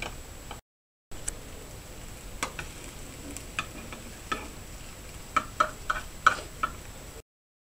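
Egg mixture for tamagoyaki frying in a pan, giving a faint sizzle with a series of light ticks and taps that grow closer together toward the end, framed by short gaps of silence.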